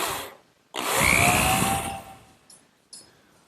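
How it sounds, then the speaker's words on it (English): A power drill drives a screw into wood in one short burst of whirring that winds down, followed by a couple of faint clicks nearby. "And now just a couple screws on this end to secure it."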